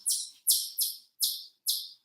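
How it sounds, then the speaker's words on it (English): Birds chirp outdoors in a bright, high-pitched series of five evenly spaced calls, each sharp chirp fading quickly, clear and close with no other sound between them. "Happy birds out there."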